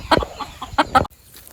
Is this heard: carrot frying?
no